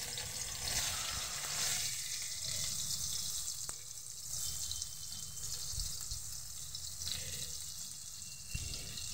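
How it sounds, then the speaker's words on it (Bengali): Chopped onion hitting hot oil in a pan gives a loud, steady hiss that runs the whole time, with faint clinks of utensils and no voices. "এর মধ্যে আমি পেঁয়াজ কুচি দিয়ে দেবো"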